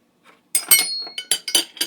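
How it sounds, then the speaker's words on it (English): A spoon clinks and scrapes against a glass baking dish as a vegetarian shepherd's pie mixture is added, a quick series of close, bright taps and knocks. "now I'm going to take this mixture and add it to my pan, or my baker."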